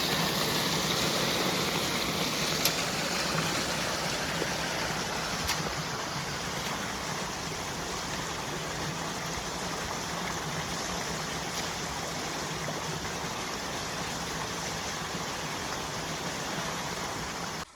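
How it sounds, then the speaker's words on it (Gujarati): Water from an electric pump motor pours into a farm field in a steady, unbroken rushing flow, close and constant, with a faint tonal hum running beneath it and no voices. "અહીં મોટર ચાલુ કરી છે અને કેવું જો સરસ મજાનું પાણી આવે છે"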